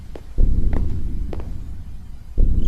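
A low, throbbing heartbeat pulses in the Slender horror game, deep and booming thuds rising in loudness at the start and end, with faint scattered knocks above the steady rumble.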